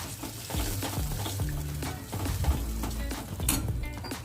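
Yogurt and spices being stirred in a pan while frying for tadka roti made from leftover flatbread, a steady close sizzle with scraping spoon strokes and occasional clinks, no talking.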